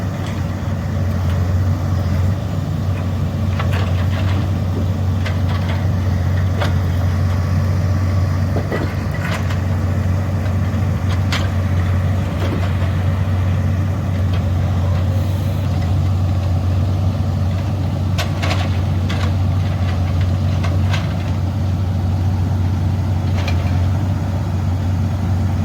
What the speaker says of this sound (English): I'm looking at the stress being put on this truck too while he's doing all this loading and unloading.